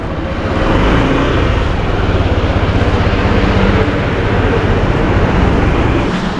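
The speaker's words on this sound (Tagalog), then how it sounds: "titry na ni paring Jester yung bagong motor" A loud, steady engine drones close by, like a motorcycle running at constant speed, with no pauses.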